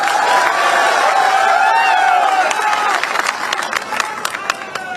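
A crowd at an Akhilesh Yadav election rally in Chandla, Madhya Pradesh, claps and cheers loudly and continuously, dense applause with scattered whoops and sharp claps becoming more distinct toward the end, no speech over it.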